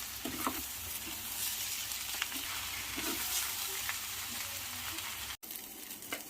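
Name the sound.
stirring millet noodles in a hot pan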